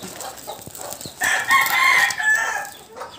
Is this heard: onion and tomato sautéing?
no